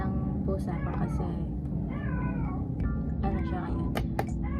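A pet cat meows repeatedly at close range in a home, several drawn-out cries over a steady low rumble.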